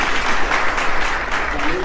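A stage audience at a comedy programme breaks into full, dense applause to welcome guest Ashraf Bhatti. The clapping is loud and continuous throughout.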